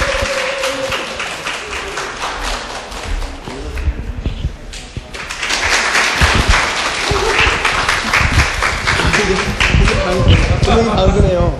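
An audience at a Korean book talk event claps to welcome two authors onto the stage. Dense applause runs throughout, with a brief lull and then a louder swell, and speech mixes in.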